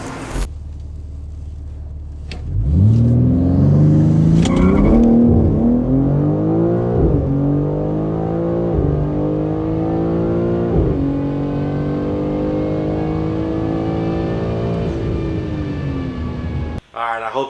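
BMW G80 M3 with a JB4 flash tune accelerating hard on a street, engine rising loudly through the revs with quick gear changes, heard close from inside the car.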